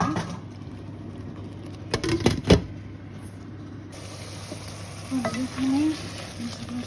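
Tomato puree sautés in a pan for butter chicken, a continuous close sizzle broken by a couple of loud clattering stirs and a brief burst of sputtering near the end.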